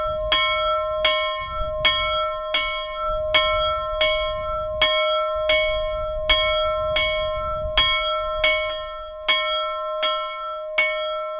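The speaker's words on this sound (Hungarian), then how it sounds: "A Baksi temetőben és a templomban is lélekharangot avattak." A restored soul bell cast in Budapest in 1879, rung at a cemetery inauguration in Baks, Hungary, striking about sixteen clear, ringing tolls in a steady rhythm with long sustained overtones.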